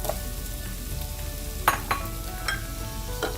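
Chopped vegetables tossed into translucent onions frying in a pan, giving a steady low sizzle with a couple of brief clattering knocks as they land and get stirred.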